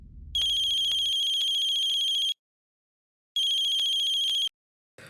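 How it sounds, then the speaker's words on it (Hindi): A telephone rings with a bright, steady electronic ringtone, close and loud, in two bursts of about two seconds and one second with a silent gap between them, after a brief low rumble at the start. "ठाकुर साहब फोन करो पाकी को, जल्दी फोन करो।"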